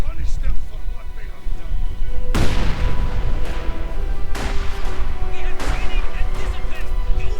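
Sniper rifle shots in Company of Heroes 2: three or four sharp, loud cracks spaced a second or two apart over a steady bed of battle noise and a commentator's voice.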